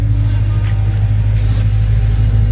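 BMW M3 fitted with an X-pipe exhaust, resonators, valve mufflers and no catalytic converters, giving a deep, steady, loud rumble that holds constant throughout with no voices.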